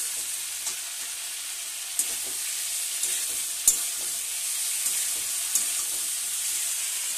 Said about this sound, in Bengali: মশলা সর্ষে আর জিরে বাটা দিয়ে ভালো করে নেড়ে নেব।